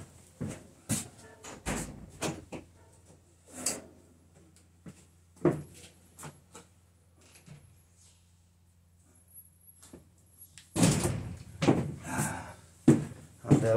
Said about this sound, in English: Maybe I can open the door and give it some more light.